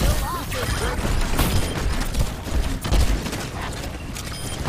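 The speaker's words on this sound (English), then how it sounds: "I love launching the bombs" Overwatch match with a steady din of explosions, gunfire and mechanical clatter as bombs are launched, loud and dense throughout, with a voice heard over the action.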